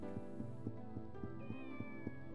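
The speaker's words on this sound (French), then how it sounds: "Oh, le petit chat!" A small cat meows in the Shenmue video game, heard over a steady game soundtrack with regular rhythmic beats, fairly close and clear.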